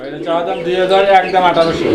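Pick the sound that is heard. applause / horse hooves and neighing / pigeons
pigeons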